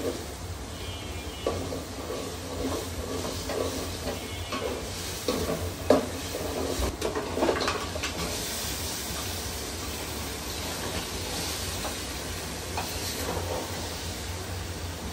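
Meat stirring and sizzling in a pan of whole spices such as cinnamon and cardamom while halim cooks, a steady fry with scraping stir strokes throughout, close and continuous.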